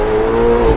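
A Ferrari engine roars through its exhaust in a short, steady, loud burst with a deep, even drone and no pause.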